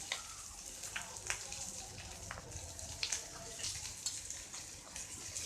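Boiled eggs fry in a pan with a steady, fairly quiet sizzle broken by scattered crackles and pops, with no talking.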